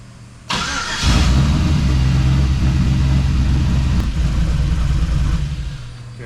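A car engine in a garage, freshly tuned and being readied for a burnout contest, catches and settles into a loud, steady idle close by, with a brief blip partway through before easing slightly at the end.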